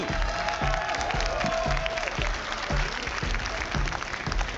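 An audience at the Clash of Clans World Championship finals applauds and cheers in a steady, dense wash of clapping and crowd noise. The sound is loud and sustained throughout.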